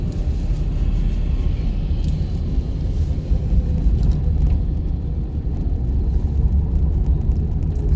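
Car engine rumbling during a driving lesson, a steady, loud low drone that holds for several seconds with no clear rise in pitch, no voices over it.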